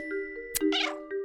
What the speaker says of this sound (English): No, Kitty! Stop playing with my mail.